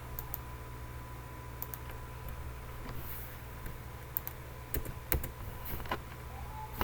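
Repeated keyboard key presses while editing a survey plan on a computer, sharp clicks scattered irregularly and clustered toward the end over a steady electrical hum, close and fairly faint, with no talking.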